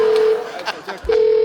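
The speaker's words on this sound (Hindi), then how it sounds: "फोन आ रहा है" A telephone rings in a comedy show set in a doctor's clinic, with steady electronic tones at start and end, close and loud, broken in the middle by brief voices and rustling.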